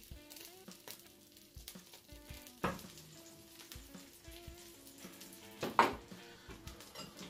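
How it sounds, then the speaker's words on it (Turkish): Quiet sizzling of stale bread frying in a pan, with occasional clinks and scrapes of utensils against cookware. "Onları da kızartacağız."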